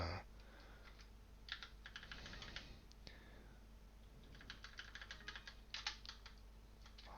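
Rapid keyboard typing in uneven bursts with pauses between, fairly close and clear, keys clattering in quick flurries.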